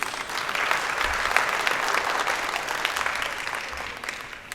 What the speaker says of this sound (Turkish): alkışlarımızla sahneye davet ediyoruz